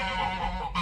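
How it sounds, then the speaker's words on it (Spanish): Geese honk nearby at a children's farm in Belgium in a brief, nasal, continuous run of calls, ending with a sharper honk. "Son ocas, ten cuidado que muerden"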